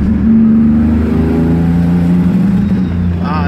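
A VQ35 turbocharged engine pulls hard under load, a loud, close, steady drone with rising tonal harmonics as boost builds, and a brief whistling sweep near the end.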